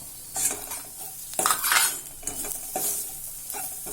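A spoon scrapes and clinks in a pan as vegetables for masala keema are stirred and sautéed, with close sizzling under several bursts of metallic stirring.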